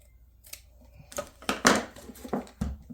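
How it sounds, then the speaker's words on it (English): Scissors snip through a piece of white lace in a series of crisp, uneven cuts, close by and moderately quiet, with no talking. "So I'm just going to cut off a piece."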